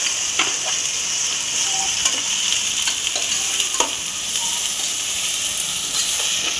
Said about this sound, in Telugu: టమాటా కూడా కొంచెం ఫ్రై అయ్యి గ్రేవీ కింద వచ్చింది.